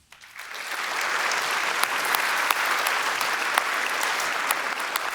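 Sustained audience applause at an award ceremony for a young scientist contest, a dense, even roar of many hands clapping indoors that continues steadily throughout.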